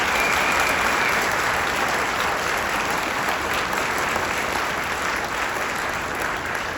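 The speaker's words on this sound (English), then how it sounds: "big applause once again for all of our speakers" Sustained applause from an audience at a memorial service honouring speakers, a dense, even wash of clapping that holds steady throughout at moderate loudness.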